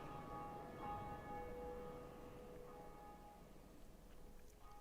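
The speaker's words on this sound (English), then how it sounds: "We have rung the bell." A bell rung in Dark Souls Remastered tolls faintly in the distance, its long sustained ring fading slowly beneath a low background wash, with no talk over it.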